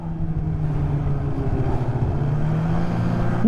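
A 2024 Polaris Indy VR1 Boost snowmobile cruises along a groomed trail in Quebec, its engine holding a steady, close droning hum with an even low rumble throughout and a brief rise in pitch at the very end.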